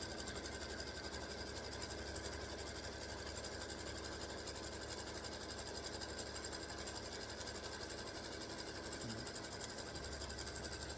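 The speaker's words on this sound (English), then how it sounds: "I'm going to stitch that color stop number 1." An embroidery sewing machine stitches an applique placement line on a football turkey quilt block, a fast, steady mechanical whir with rapid needle ticking that runs continuously and alone.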